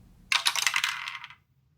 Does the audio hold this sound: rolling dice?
yes